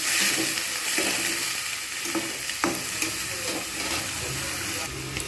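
Onion and tomato for a Bengali bhetki fish curry fry in oil and are stirred, a loud continuous sizzle and hiss with scattered scraping taps of the spoon against the pan, with faint talk.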